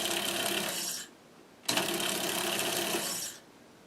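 A Monroe LA5 mechanical calculator's motor whirs in two short bursts, about a second and then nearly two seconds long, with a brief pause between them. The whir is steady, close and fairly quiet.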